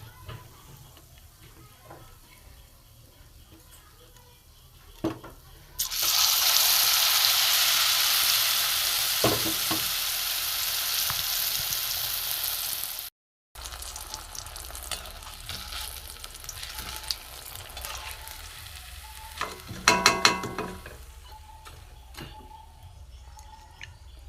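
Pea chops frying in hot oil, a dense close sizzle that bursts in suddenly, holds for several seconds, then cuts out, followed by quieter bubbling and a few clatters.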